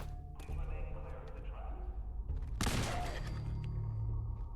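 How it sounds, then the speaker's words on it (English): In Fallout 4, a thrown grenade bursts into a loud, sharp explosion with a rumbling tail about midway through. Game ambience and a speaking voice come before it. "Think let's just throw a grenade in there."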